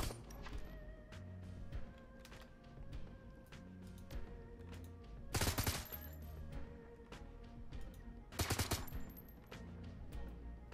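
Gunfire in the Shadowrun video game, two loud sharp bursts of shots standing out over a steady game background with low music.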